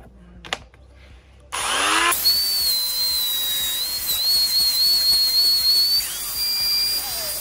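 A trimmer router starts up with a short rising whine and then runs at a loud, steady high pitch while cutting a hinge recess in wood for a hidden door, with no talking.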